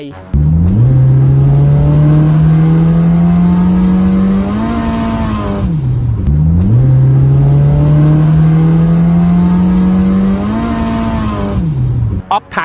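A tuned car of nearly 400 horsepower with an automatic gearbox that slips above 6,000 rpm revs hard twice, each time climbing steadily to a screaming peak before the revs drop sharply, loud and close.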